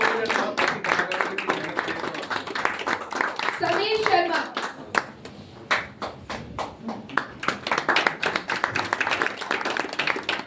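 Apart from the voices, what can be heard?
audience clapping for the performers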